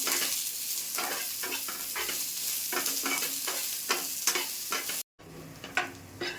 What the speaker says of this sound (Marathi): कांदा भाजताना थोडा तेल टाकायचं म्हणजे कांदा चांगला भाजला जातो